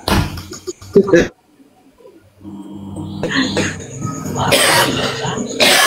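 A couple of loud coughs up close, then a short silence before voices and background chatter resume.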